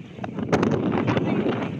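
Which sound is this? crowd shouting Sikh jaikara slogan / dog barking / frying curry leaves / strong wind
strong wind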